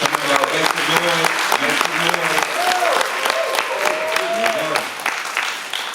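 Clapping and cheering from an audience at a Kwanzaa 365 celebration, steady applause throughout with voices shouting and whooping over it, plus some talk mixed in.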